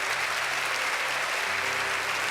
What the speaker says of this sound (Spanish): Les podemos dar un aplauso